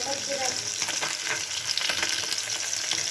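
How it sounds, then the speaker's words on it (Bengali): Pabda fish frying in hot oil in a home kitchen, a continuous loud sizzle with crackling spits and occasional stirring scrapes, close up and without talk. "পাবলা মাছ ভাজি করছি"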